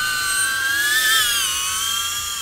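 Loud, close, high whine of a DJI Avata FPV drone's propellers flying in normal mode, the pitch rising slightly then settling as it moves, steady and unbroken.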